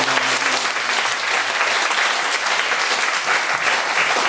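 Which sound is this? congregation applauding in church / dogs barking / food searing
congregation applauding in church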